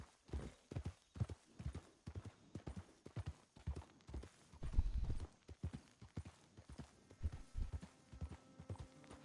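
Horse hooves clip-clop in the Red Dead video game, a steady rhythmic trot of soft, fairly quiet hoof falls that continues throughout with no talk over it.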